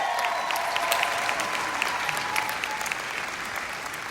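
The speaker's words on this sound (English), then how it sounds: "let's give her a huge round of applause." A convention audience gives a big round of applause, with dense clapping holding steady and loud from start to finish while a low tone lingers beneath it early on.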